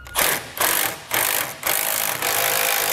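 Bolts are tightened on the mounting bracket of an Ark Xtreme off-road ratcheting jack, heard as loud, close bursts of a powered driver that rev up repeatedly, about five spurts over three seconds, with no talking.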